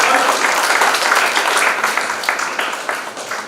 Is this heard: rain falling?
no